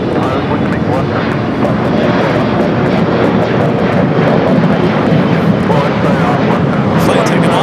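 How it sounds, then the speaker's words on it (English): Delta Airlines Boeing 767-300ER departing LAX: a loud, sustained jet engine roar holds steady throughout, dense and continuous, with voices talking over it. "Flight taken off. Delta Airlines flight 425 heading to Kahului, 767-300ER."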